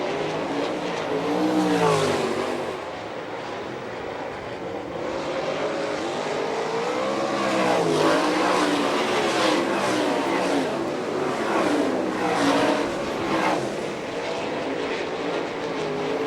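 Sprint race cars roar around a dirt oval at Fremont, Ohio, in an All Star Circuit of Champions Speedweek race, with engines rising and falling continuously as cars pass, and a race announcer talking over the din.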